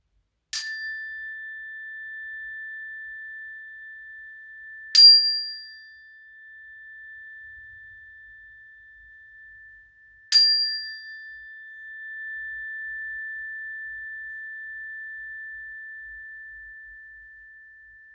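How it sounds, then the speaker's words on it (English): A meditation chime for a children's yoga session rings three times about five seconds apart, each clear, bright strike ringing out and slowly fading, with near silence between. "I'm going to play the chime 3 times."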